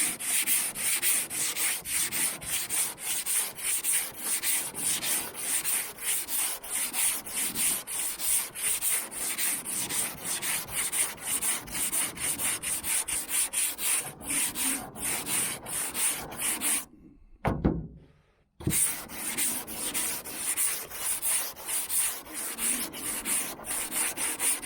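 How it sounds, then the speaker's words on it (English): Body filler on a 1978 El Camino SS is block-sanded with 80 grit paper, producing a loud, close, continuous rasping scrub of rapid back-and-forth strokes, broken by one brief pause near the end. "So I just got some 80 grit on block. We're gonna block all this down before skimming it again."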